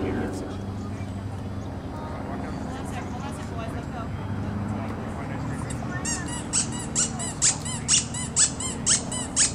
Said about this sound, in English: Those be some awfully squeaky rats.